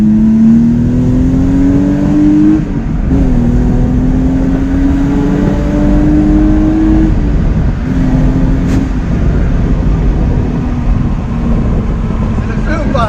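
A BMW E30's engine idles steadily inside the car, its pitch drifting up and down on its own as the idle rises and falls, loud and continuous with no talk.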